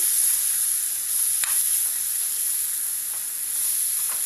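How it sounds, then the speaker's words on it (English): Cooked green peas are stirred into paneer pulao in a hot kadai, a steady close sizzle and hiss with a few soft scraping strokes of the spoon. "Add cooked green peas. Mix well."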